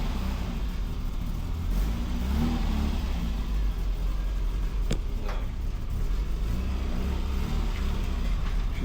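Abandoned retro Austin Metro GTA with no brakes, its engine running steadily and revving as the car moves off, a continuous mid-pitched drone with slight swells and a couple of brief clicks.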